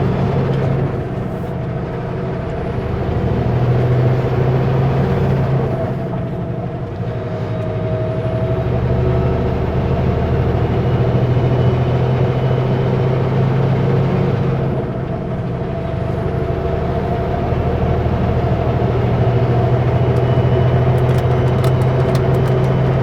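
A Super B semi truck drives through an unplowed, snowy lane, its loud, steady engine drone and road rumble swelling and easing slightly, with no talk.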